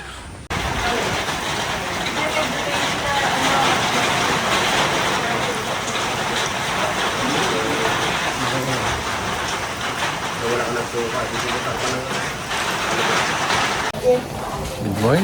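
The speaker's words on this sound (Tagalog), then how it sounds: "Maulan na umaga." Steady rain falls on a wet morning at a glamping site in Cavinti, Laguna, a dense, continuous hiss that carries throughout with faint murmurs beneath it and a brief louder knock near the end.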